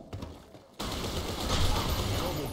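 Sudden sustained automatic gunfire in the online shooter BlackShot on a sand storm map, loud and rattling, with voices faintly mixed in.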